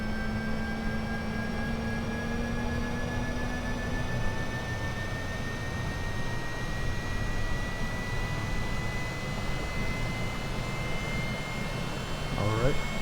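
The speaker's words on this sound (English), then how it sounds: "So you can hear the engine starting up now." The jet engine of a Citation CJ4 starts up in Microsoft Flight Simulator, a steady rising turbine whine with a broad rushing roar that holds level throughout, a voice speaking briefly at the start.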